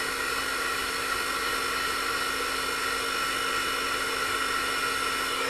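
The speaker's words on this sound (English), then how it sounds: "Sounds like a bloody hairdryer." A terahertz therapy device gives a steady, droning buzz much like a hair dryer, an even whir with a fixed whine that holds unchanged throughout, fairly faint and with no speech over it.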